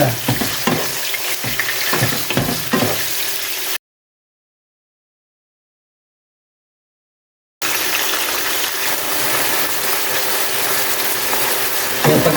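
Steady crackling sizzle of liver frying in a pan, broken by a few seconds of silence midway; scraping stirs sound early on.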